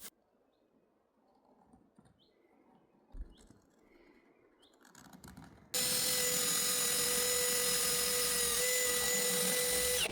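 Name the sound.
drilling holes for 8mm bolts with a 6.8mm drill bit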